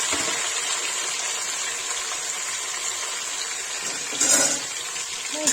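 Chopped onions drop into hot oil for chicken masala, producing a loud, steady, even hiss that holds throughout, with a brief louder surge near the end.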